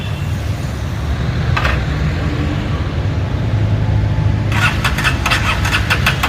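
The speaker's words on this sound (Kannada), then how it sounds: "ಸೊ ಇವಾಗ ಜಸ್ಟ್ ಗಾಡಿನ ಸ್ಟಾರ್ಟ್ ಮಾಡಿಬಿಟ್ಟು ನೋಡೋಣ ಯಾವ ಥರ ಇದೆ ಗಾಡಿ." A Yezdi Roadster motorcycle engine cranks and catches, then settles into a steady close idle, with a few short sharp mechanical clicks or blips partway through and toward the end.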